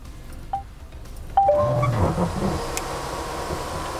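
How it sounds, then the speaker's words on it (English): An MG Hector's sunroof starts opening on a voice command inside the car, with short chime-like tones followed by a low, steady motor hum and a faint mechanical whir nearby. "Please open the sunroof."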